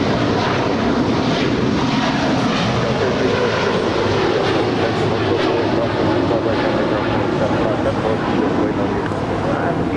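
Qatar Airways Airbus A350-1000 jet departing Los Angeles LAX for Doha, a steady broadband engine roar lasting throughout at constant loudness, with voices talking underneath.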